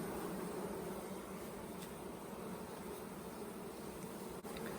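Honey bees buzz around an open beehive during an Alabama hive inspection, making a faint, steady, even drone throughout with a small click near the end.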